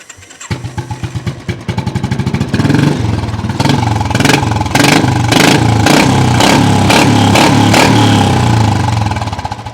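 A 2017 Royal Enfield Classic 350 motorcycle with an aftermarket bent exhaust pipe, with 16,000 km on it, sits at a used bike dealer in Rajkot. Its single-cylinder engine thumps loudly and close, rising through a series of sharp, rhythmic throttle blips and revs.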